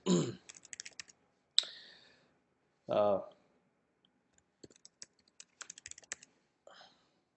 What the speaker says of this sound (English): I'll just click on next and enter the credentials.